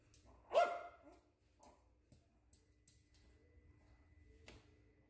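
A dog gives one sharp bark close by, followed by quieter clicks and taps in a fairly hushed room.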